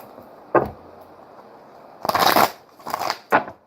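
Tarot cards being shuffled by hand: a brief riffle, then a longer dense burst of papery flutter and two shorter shuffles, close and fairly loud against a quiet room.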